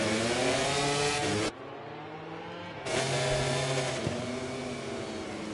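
Motorcycle engines roar at full throttle at the start of a MotoGP video game race at the Red Bull Ring, a loud dense revving wall that dips briefly and then surges back, with no voices.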